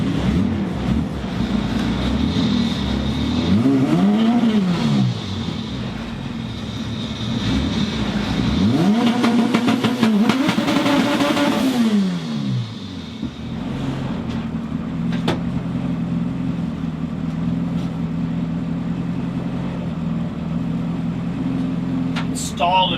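A cheap eBay Honda Civic races down a quarter-mile drag strip in a heads-up race, the engine repeatedly revving up and dropping through gear changes, loud and close, before settling into a steady lower rumble with voices speaking.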